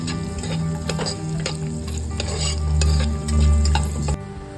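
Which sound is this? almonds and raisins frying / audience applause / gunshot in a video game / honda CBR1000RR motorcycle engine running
almonds and raisins frying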